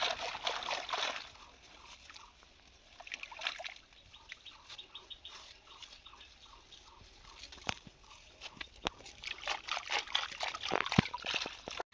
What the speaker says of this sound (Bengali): মা ওই পুকুরে ধুইবে অনেক কাদা লেগে আছে তো ধুয়ে পরিষ্কার করে